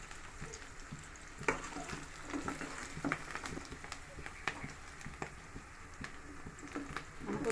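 Curry leaves frying in hot oil with onion and green chilli for an okra curry, giving a soft, quiet sizzle broken by scattered sharp pops and crackles.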